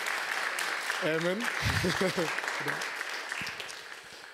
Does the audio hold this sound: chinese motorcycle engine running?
no